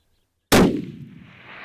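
A single loud rifle shot fired while hunting aoudad in Texas, an abrupt sharp crack followed by a rolling outdoor echo that slowly fades away.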